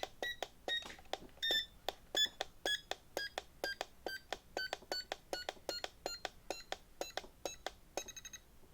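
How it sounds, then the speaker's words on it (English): RC transmitter throttle trim beeping: a rapid, steady run of short, bright electronic beeps, fairly quiet and close, ending with a slightly different tone at the end. "this is the throttle trim. And if you listen, it beeps."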